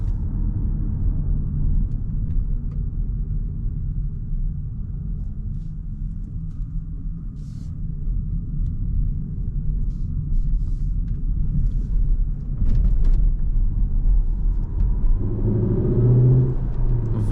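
A 2025 Cupra Formentor eHybrid facelift with 272 hp, switched into CUPRA mode on a night drive, gives a steady low engine rumble from inside the cabin that swells louder toward the end.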